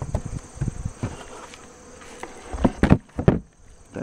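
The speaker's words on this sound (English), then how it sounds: "That's not a bee, that's a bumblebee." Honeybees drone around an opened hive, and a bumblebee joins them with a lower buzz. Wingbeats rise and fall as insects pass close by, with a few louder swells near the end.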